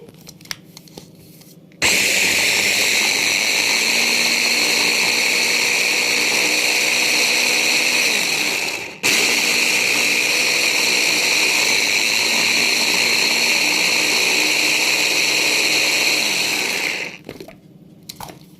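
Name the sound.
electric chopper grinding garlic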